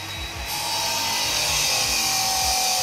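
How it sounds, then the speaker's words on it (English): A power screwdriver whirs steadily and loudly while backing screws out of an RF Elements Twist Port Slant 45 antenna dish, a continuous close grinding drone with no voices. "All right, so we're gonna take out our screws here."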